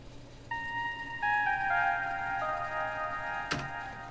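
Absynth synth preset with a sine-like tone playing a bridge melody, clear stepped notes entering after half a second and descending in pitch, with a sharp click near the end.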